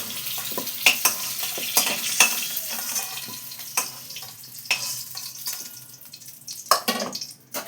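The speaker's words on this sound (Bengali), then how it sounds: "এই দেখো আলুগুলো ভাজা হয়ে গেছে, খুব লাল করিনি, সামান্য লাল লাল করে আমি ভেজে নিয়েছি।" Potatoes frying in oil in a home kitchen, with close irregular spatters, spoon scrapes and clinks over a low sizzle; louder stirring bursts stand out against quieter stretches.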